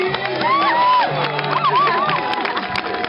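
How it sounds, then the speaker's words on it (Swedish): Audience at a live knight show cheering and whooping, with a loud crowd roar and shouting children sustained across the whole stretch. "Ja, vi kan nog jubla lite till."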